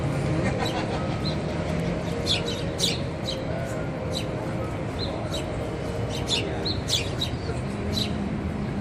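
Baby bird with unfinished feathers chirping while another bird feeds it, high thin chirps and tweets scattered throughout over a steady background murmur, with people talking nearby.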